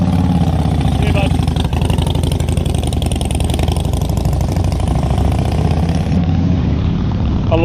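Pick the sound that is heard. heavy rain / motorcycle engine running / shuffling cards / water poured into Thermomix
motorcycle engine running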